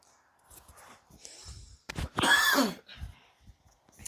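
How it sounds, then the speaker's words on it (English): A single harsh cough or throat-clearing bursts out near the middle, loud and close, between quiet shuffling sounds. "got a cough all of a sudden after my last smoke"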